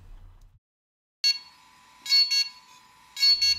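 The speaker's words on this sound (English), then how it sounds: "During this upgrade process, you may hear beeping coming from the Inspire 1." A DJI Inspire 1 drone beeps during a firmware upgrade: electronic beeps in short bursts, a long tone followed by pairs of sharp high beeps, close and clear in a quiet room.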